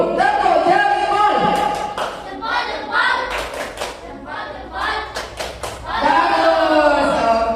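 Children in a classroom perform a thumb-clap chant, rhythmic bursts of clapping and taps mixed with loud sung or chanted voices in a group rhythm.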